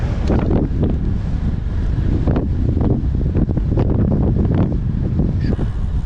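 Strong wind roars and buffets the microphone in heavy, uneven gusts, with a low rumble throughout and no voices.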